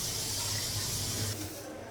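Pumpkin fries in hot oil in a kadai, a constant close hiss and spray that eases slightly toward the end, with no one speaking.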